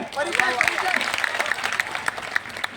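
Audience applause at a school alumni gathering, a brief burst of clapping from a crowd that holds steady across the short stretch and mixes with some voices.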